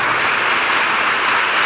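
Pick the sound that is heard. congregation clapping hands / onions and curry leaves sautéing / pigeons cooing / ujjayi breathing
congregation clapping hands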